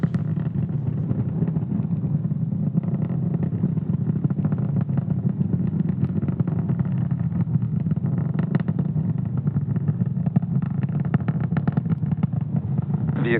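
A SpaceX rocket climbs during a Starlink satellite launch, its engines making a steady, dense rumbling roar with a crackling texture that holds constant and loud throughout, with no voices over it.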